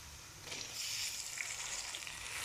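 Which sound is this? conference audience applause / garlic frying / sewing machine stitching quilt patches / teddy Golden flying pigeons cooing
garlic frying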